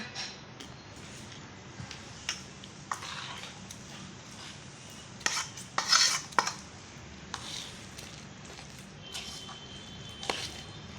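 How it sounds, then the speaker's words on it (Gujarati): Samarpan-brand dabeli masala is stirred into a cooking dabeli filling already mixed with coriander. A spoon scrapes and clinks against the pan in irregular bursts, close by, with quiet gaps between strokes. "હવે આપણે દાબેલી મસાલો મિક્સ કરવાનો છે"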